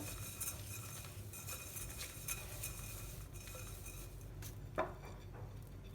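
Quiet stirring of rice and bulgur into a filling in a pot, with soft scraping and occasional light clinks of a utensil against the rim.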